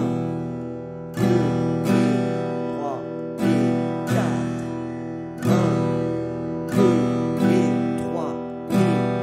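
Guitar strummed with a pick in a steady rhythm, sharp attacks ringing between strokes, while a voice counts along under the playing.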